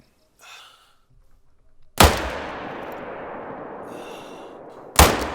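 Two loud, close rifle shots from a Quist Reaper 7.62x39 in a hunting game, about three seconds apart, each a sharp crack with a long rolling echo. A soft breath sound comes just before the first shot.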